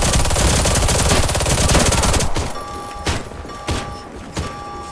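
Rapid loud gunfire from a USAS-12 automatic shotgun in the Warface video game: a fast continuous burst of shots for about two seconds, followed by several separate booming single shots.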